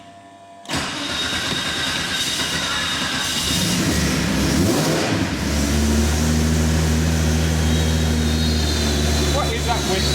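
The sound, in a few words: whistling noise from Porsche 964 Turbo, probably the fan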